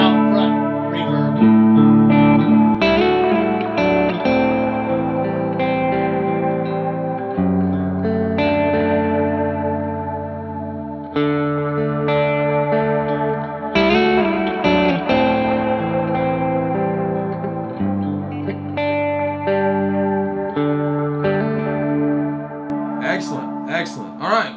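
Electric guitar playing chords and melodic lines through a praise-and-worship pedalboard, with a shorter, less prominent reverb tail; sustained, layered tones with chorus and echo shimmer continue steadily and fairly loud throughout.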